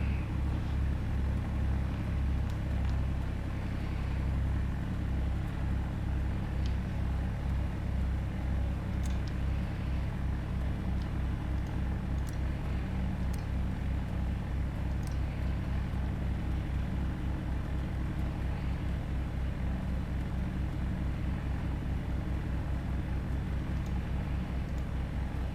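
Piper Cherokee single-engine propeller plane in a flight simulator, engine held at 1000 RPM, giving a steady low droning hum that continues evenly throughout with faint ticks above it and no speech.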